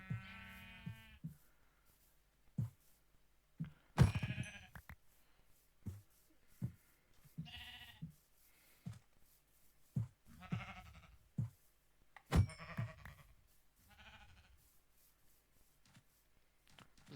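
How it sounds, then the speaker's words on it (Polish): Sheep bleat in Minecraft several times in short, quavering calls, with soft clicks and taps in between, all fairly quiet and with no talking. "O, owce są."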